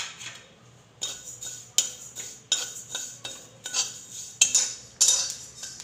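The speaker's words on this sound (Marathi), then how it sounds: "तर यातच आपण आपले सफेद तीळ भाजून घेऊया।" White sesame seeds roasting in a pan on the stove, with repeated scraping and clinking strokes of a spoon or spatula against the metal pan, about eight distinct stirs over a quiet background.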